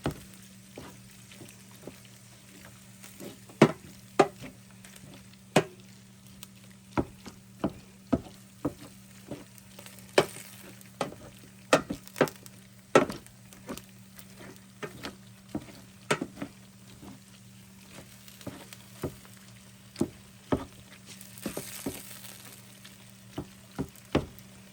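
Ground beef (hamburger) frying in a pan while being stirred, a low steady sizzle broken by frequent sharp scraping and tapping clicks of the utensil against the pan.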